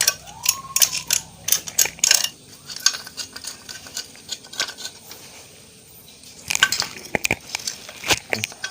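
A hand wrench tightens the clutch bolts on a Honda Supra, giving a string of close metallic ratchet clicks and clanks in uneven bursts with short quiet gaps and no talk.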